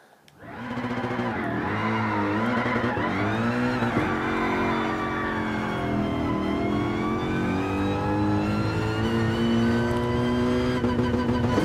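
Engine of a car driven in Gran Turismo Sport from the cockpit view, a steady close roar that rises and falls through gear changes and revs, loud and continuous throughout.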